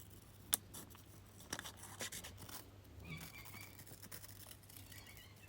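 Scissors snip through a strip of light, low-tack masking tape, a few close, sharp cuts followed by soft scratchy handling, quiet and with no talking.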